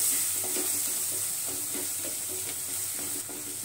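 Spices sauté in a pan over a medium gas flame, giving a steady, soft sizzle with light stirring scrapes throughout.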